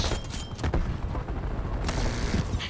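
Gunfire in Call of Duty Black Ops Cold War multiplayer: rapid bursts of shots cracking close by, with a dense rattle of repeated reports and a few louder booms over a couple of seconds.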